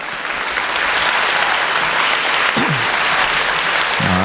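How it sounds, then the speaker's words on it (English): An elementary school moving-up ceremony audience gives a fifth grade team a full, steady round of applause that lasts throughout, with a brief voice rising out of the clapping near the end. "so now you can clap for them."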